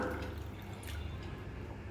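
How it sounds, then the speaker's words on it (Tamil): Water pours steadily into a bowl of sago pearls, a continuous close splashing trickle with soft bubbling and no pauses. "இப்போ அதில் தண்ணி ஊற்றி நல்லா மூழ்கிற அளவுக்கு மேலே ஊற்றிக்கலாம்."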